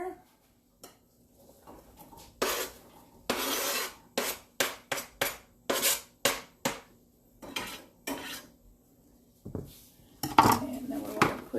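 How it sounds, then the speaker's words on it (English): Onions tipped into melted butter in a frying pan, with a run of sharp scraping and clattering bursts from a utensil against the pan, loud and close, in irregular quick strokes with short gaps. "What I want to do is put the onions in there."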